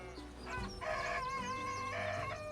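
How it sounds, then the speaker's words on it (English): A rooster crows twice in clear, close calls, each a long harmonic cock-a-doodle-doo, with soft background noise and no talk. "The rooster is still here."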